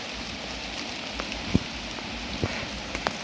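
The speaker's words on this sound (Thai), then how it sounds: "โอ้ฝนตกใส่มือถือว่ะ" Rain falls on a mobile phone outdoors near a cave temple, a steady close hiss of drops with a few sharper taps scattered through it.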